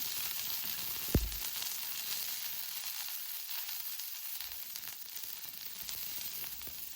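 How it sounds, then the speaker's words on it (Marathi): Chopped onion frying in oil in a pan for a village-style mutton dish, a steady bright sizzle running throughout with one brief clunk near the start, no talk. "तेल टाकल्यामुळे आपला कांदा जो आहे पटकन भाजला जातो"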